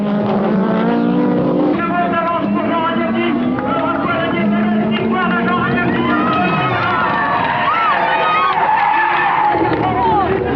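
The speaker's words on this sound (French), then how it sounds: "Jean Ragnotti se retrouve donc au volant d'une Renault 21 Turbo 4x4 et sur circuit," A Renault 21 Turbo 4x4 race car skidding on a circuit: a long, loud tyre squeal that wavers in pitch over a roaring engine, with crowd noise and commentary underneath.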